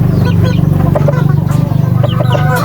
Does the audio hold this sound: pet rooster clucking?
yes